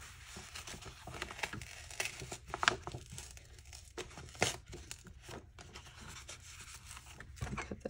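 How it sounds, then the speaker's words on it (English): Paper peeled off a scrapbook layout crinkles and tears in close, irregular bursts of rustling and ripping, with brief quieter pauses between pulls. "It doesn't really matter to me if the white paper rips, but I don't want to thin out what's on top."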